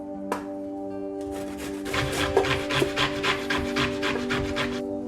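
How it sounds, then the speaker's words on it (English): Fresh ginger is grated for a spiced mango chutney, giving a close, rhythmic series of rough rasping strokes over a steady background hum. "The ginger, I'm just going to grate it."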